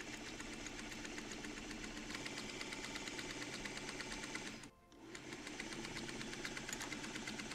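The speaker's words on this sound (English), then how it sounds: "I will go over to the sewing machine now and I will sew these two together" A sewing machine stitching quilt block pieces together runs in a steady fast whirring rhythm, close and even, with one short pause midway before it resumes.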